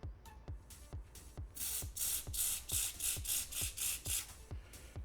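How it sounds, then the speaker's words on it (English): Can of WD-40 contact cleaner sprayed in short bursts, a hissing blast lasting a few seconds, accompanied by a steady rhythm of low mechanical clicks or thumps, quiet and close, with no talk. "So we've got some classic WD-40 contact cleaner right here. We're just going to give that a little bit of a blast in there."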